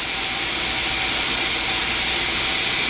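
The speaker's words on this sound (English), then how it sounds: "See, we now have nice steam coming out here." Steam hissing steadily from the vent of a pressure canner used for chicken stew, a loud continuous rushing hiss with no break, heard alone.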